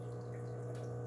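Hot water runs from a tap with a steady hum, a continuous moderate flow with a faint tonal drone, close and unbroken, with no speech.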